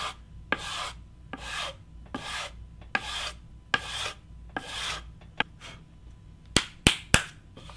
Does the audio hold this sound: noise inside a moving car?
no